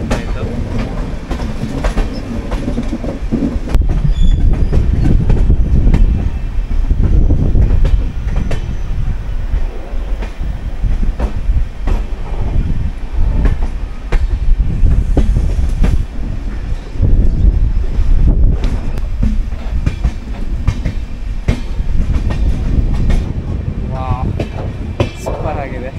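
Passenger train rolling along the Sakleshpur-Yeshwanthpur line through hilly ghat country: a loud, steady low rumble of wheels on rails with faint clickety-clack and wind buffeting, heard from close by on board, with voices briefly mixed in.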